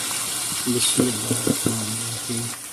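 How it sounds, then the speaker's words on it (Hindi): Marinated chicken dropped into a pan of softening tomatoes for a Sindhi biryani sizzles and fries steadily, with a few sharp spatter pops and clinks close by under a continuous hiss. "तो हम इसमें भी चिकन जो मैरिनेशन किया हुआ था वो हम इसमें डालेंगे"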